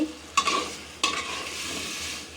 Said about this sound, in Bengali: পেঁয়াজ, কাঁচামরিচ, ধনে পাতায় এখন আমি তেলের মধ্যে এগুলো দিই